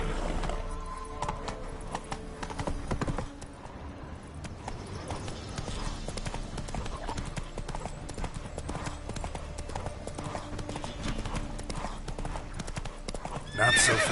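Horse hooves clip-clop in a fast gallop in The Witcher 3, a continuous close rhythmic beat with neighs and whinnies throughout and a louder burst at the end.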